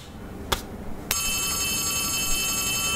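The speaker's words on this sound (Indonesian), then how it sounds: "Ada suara telepon lagi di sini" Telephone ringing in the horror video game Poppy Playtime Chapter 3, a sharp bell-like ring that starts after two brief clicks and then sustains loudly and steadily, with no talking over it.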